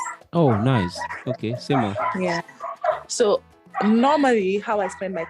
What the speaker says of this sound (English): I'm so sorry about the noise from my dog.